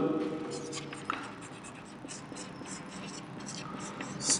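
Marker or chalk scratching on a classroom board during a biology lesson on a simple stirred tank bioreactor, faint and continuous with soft rubbing strokes and one brief louder tap.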